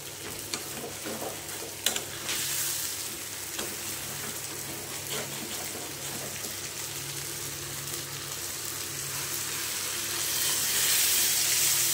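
Chicken sizzles and fries in a pan as water is poured in, a steady crackling stir with a brief splash early on and a louder hiss toward the end.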